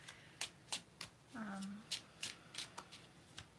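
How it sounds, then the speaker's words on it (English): Tarot cards being shuffled close up, with a series of crisp riffling snaps and one soft sliding rasp in the middle, quiet and steady. "I'm just shuffling the cards here and tuning in to the Gemini energy."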